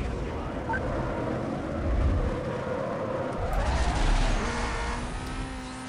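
A small Lotus race car in a driving game roars along at speed, its engine droning steadily with tire squeal and skidding swelling at times.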